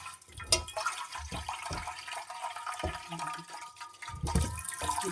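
Water is splashed into a pot for steaming chickpeas in a home kitchen, an uneven pour with gurgles, bumps and clunks of the vessel, fairly close and without speech.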